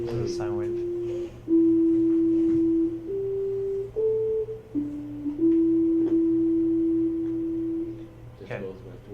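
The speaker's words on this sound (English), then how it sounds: "Here's the sine wave." A pure synthesized sine tone held steady, then stepping between a few pitches in long sustained notes, loud and clean over a low steady hum, with brief voices at the start and end.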